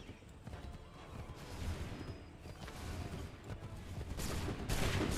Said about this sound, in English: Oh, I can spur the horse.